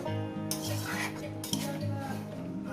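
Pre-boiled goat mutton being stirred and braised in a pot: a steady low hum underneath with a light frying crackle, and a couple of louder scraping clinks of a spoon against metal.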